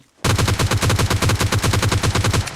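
Rapid automatic gunfire from the mobile shooter PUBG Mobile Lite bursts in after a brief silence and continues as a loud, close, evenly spaced string of shots for over two seconds.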